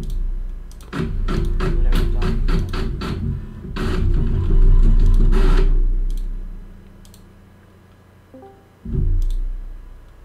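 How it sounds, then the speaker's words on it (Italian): A printer runs inside a GTA V FiveM role-play game, giving a quick series of mechanical ticks and clicks followed by a longer low whirring feed that fades, with a short thump near the end. "Stampa la stampante."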